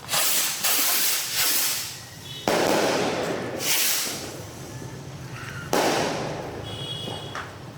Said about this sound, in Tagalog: Diamond Fireworks, Quitties distributed by SRC Fireworks